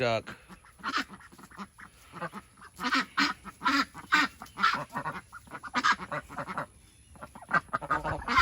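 Backyard ducks honking and quacking in a close, loud series of harsh calls that come in uneven bursts, with a person talking to them in between.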